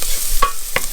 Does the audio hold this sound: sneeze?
no